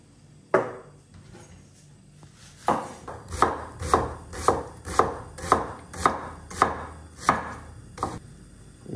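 A knife chops onion on a cutting board, about a dozen crisp, evenly spaced strokes close up, with a faint pause near the start and no talk.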